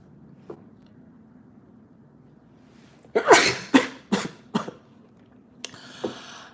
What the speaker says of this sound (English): I'm sneezing